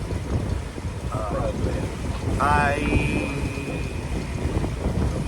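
A boat motors along on open water with a steady rumbling drone and wind buffeting the microphone, while voices and a brief high tone come through over the engine noise.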